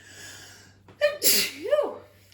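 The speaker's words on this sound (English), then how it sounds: "Sneezing here." A single sharp sneeze with a quick inhale beforehand, close and loud against near silence, followed by a brief vocal sound.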